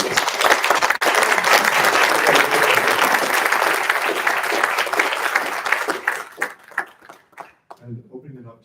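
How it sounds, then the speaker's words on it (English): A round of applause for panelists at an agriculture discussion, a loud dense burst of clapping that thins into scattered last claps and fades, with a voice starting at the end. "Now I think a round of applause for the panelists."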